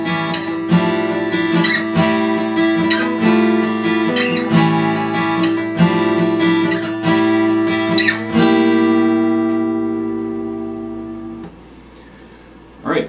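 A guitar plays the verse riff of a song, repeated plucked notes and chords in a steady rhythm, then the last chord rings out and fades.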